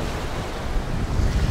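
Ocean surf rolls onto the beach at Sichon and Khanom, Thailand, a steady close wash of breaking waves with gusty wind buffeting the microphone throughout, no voices.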